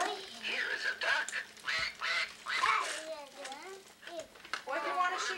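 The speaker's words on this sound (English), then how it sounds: "Here is a duck." A toy plays a duck's quacking at a first birthday gathering, several nasal quacks at close range mixed with a voice and adult talk.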